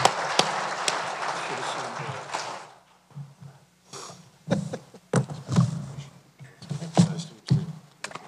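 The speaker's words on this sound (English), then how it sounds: "I just would like you all to give a round of applause for our panelists" Conference audience applauds panelists at the close of an afternoon session of an energy conference, with clapping at first, then a lull and scattered bursts of handclaps mixed with nearby talk.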